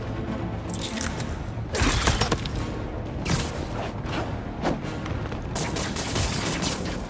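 Rapid gunfire from the video game Marvel's Spider-Man 2 crackles in dense, overlapping bursts, loud and nearly continuous for the whole stretch, with a few heavier blasts punching through the volley.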